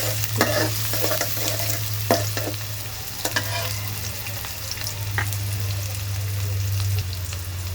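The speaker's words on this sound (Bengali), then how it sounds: "তেলের পরে দিয়ে দিলাম তিনটা কি চারটা হবে পেঁয়াজ" Three or four onions frying in about two tablespoons of oil for spicy chicken bhuna, crackling sizzle with repeated spatula scrapes and taps against the pan, steady and close with a low hum underneath.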